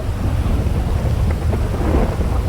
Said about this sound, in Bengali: বাইরে এত ঝড় বৃষ্টি হচ্ছে বলার বাইরে